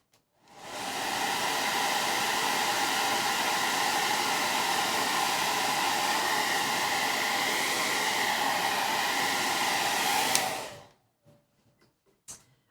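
A hair dryer blowing on a wet paint streak on a distressed painted background, a steady loud whir running about ten seconds close to the microphone before switching off, followed by a few faint handling sounds.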